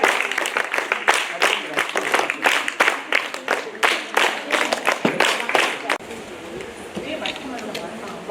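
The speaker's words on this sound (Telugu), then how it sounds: "చప్పట్లు గట్టిగా మరి పిల్లలకు ఘన స్వాగతం ఉండాలి." Applause welcoming children to a school, with a burst of sharp claps from a gathering that fades after several seconds while a voice talks over the last part.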